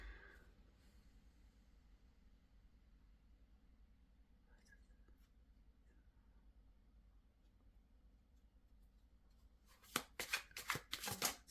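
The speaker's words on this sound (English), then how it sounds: "Let me continue to shuffle and actually pull cards" Quiet room hush, then a quick burst of card shuffling near the end, a rapid flurry of riffling snaps close to the microphone.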